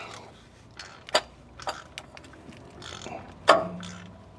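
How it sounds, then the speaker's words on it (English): A ratchet tightens a part during a vehicle oil change, giving a few spaced, close mechanical clicks and turns against a quiet background. "Grab your ratchet. Turn that bitch on. And then just give it a little tight."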